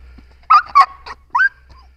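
A guard dog gives three or four short, sharp barks on its handler's command, loud and close, spaced about a quarter second apart with a brief pause before the last.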